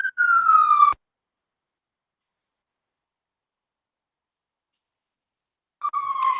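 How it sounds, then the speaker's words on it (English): Sirens from an emergency vehicle outside wail in two short, loud bursts, one at the start and one at the end. Silence falls between them as the sound cuts out, and nobody speaks. "sorry about the sirens."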